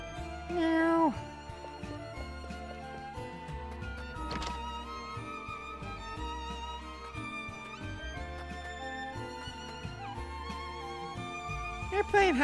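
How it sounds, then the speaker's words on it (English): A cat meows in the video game Triangle Strategy, a short cry at the start over steady game music with tonal chimes, and a voice talks over it. "Oh, that's a cat."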